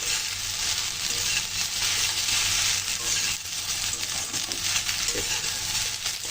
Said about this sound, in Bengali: ডিম দিয়ে একটু সুন্দর করে মিশিয়ে নেব।